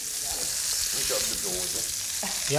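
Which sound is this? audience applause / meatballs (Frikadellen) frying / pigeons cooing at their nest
meatballs (Frikadellen) frying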